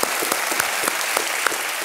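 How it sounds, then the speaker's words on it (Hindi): Studio audience of a televised quiz show applauding to welcome a contestant, a steady wash of many hands clapping with sharper individual claps standing out, no voices over it. "तालियों के साथ इनका हम स्वागत करेंगे"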